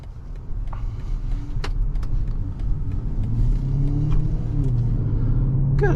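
A 2024 BMW X5 M60i's V8 pulls hard under acceleration with a deep, steady rumble that gradually builds in loudness, heard from inside the cabin with no voices.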